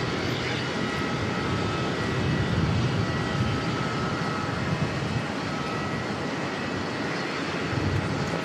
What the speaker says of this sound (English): but the American Airlines 777 pushing back as well.